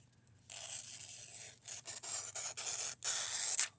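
A Monikala Grenade knife blade cuts through material in several close, rasping strokes, each a scratchy scrape separated by short pauses, with no voices.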